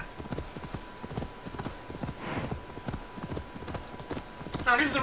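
A horse's hooves clop rhythmically at a trot in Assassin's Creed Valhalla, near and even-paced, ending with a brief bright rustle of game sound.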